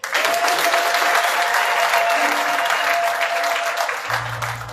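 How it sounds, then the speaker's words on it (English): A church congregation claps steadily in loud, sustained applause, with a faint tone running through it. "So let's clap for ourselves."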